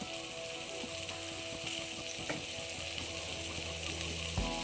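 Crab curry masala, with salt and chili powder added, sizzling steadily in a pan with occasional scrapes and stirring clicks; a continuous close, moderate frying hiss with no talk.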